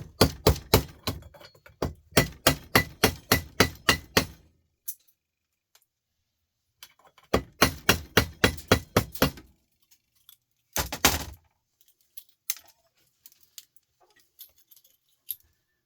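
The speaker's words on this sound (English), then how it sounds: "Just going to have to get a slap of the hammer, guys. So Bit of noise." Sharp metallic taps in quick rhythmic bursts, several runs of rapid strikes separated by pauses, then a few scattered single knocks, close by.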